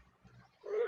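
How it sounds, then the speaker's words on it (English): A cat gives one short meow at the end, close and moderately loud, after a quiet stretch of faint low room noise. "There's a cat."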